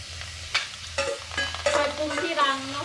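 Snails stir-fried in oil in a pan, a continuous sizzle with scraping and clanking stirring strokes at irregular intervals, close and moderately loud.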